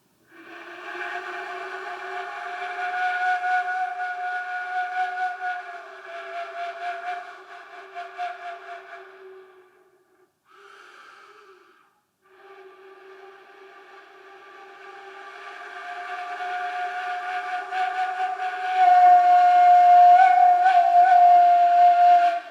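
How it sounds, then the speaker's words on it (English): A Māori pūmoana conch shell trumpet blown in long, steady, horn-like notes, briefly breaking off midway, then returning louder with a wavering, rising pitch at the end. "So this is the song of sounds of the Pūmoana"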